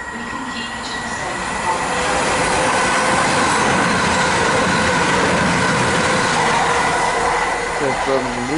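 A Class 220 diesel train passes through Beeston station with a loud, steady rumble and rush of wheels close by. The roar builds and holds throughout, and faint wheel squeal appears toward the end.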